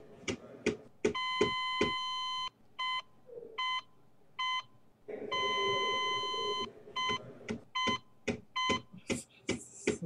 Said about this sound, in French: Ça n'arrête pas de biper